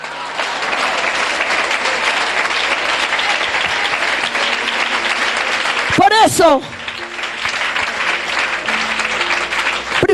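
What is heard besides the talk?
applause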